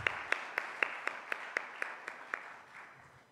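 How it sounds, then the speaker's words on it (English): Applause at an international conference on love and service, heard as a regular series of sharp single claps, roughly four per second, fading out toward the end, fairly faint and sparse rather than a full crowd. "a big round of applause"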